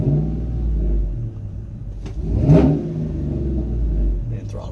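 A GMC Denali with a swapped-in LSA supercharged V8 rumbles close by, giving one throttle blip that swells and fades over a steady low idle.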